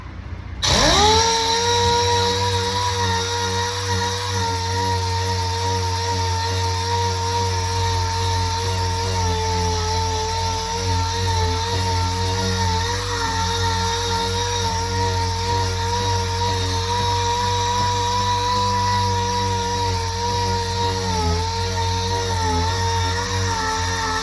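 A power sander with 80 grit paper works over old body filler on a car, its motor whining up abruptly and then holding a loud, continuous tone to the end.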